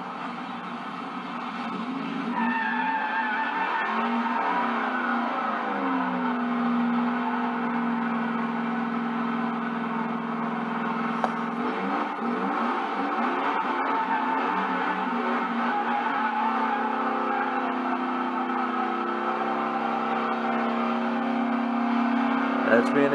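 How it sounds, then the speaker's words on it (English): A 1957 Chevy drag car with a 454 tunnel-ram engine runs loud and sustained for over twenty seconds, revving steadily with rising and falling pitch sweeps as it burns rubber, and voices talk beneath it. "So he let me burn rubber with it"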